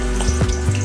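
Green chillies dropped into hot oil in a karai set off a continuous loud, close sizzle and bubbling fry, with a few soft pops over the short stretch and no talking.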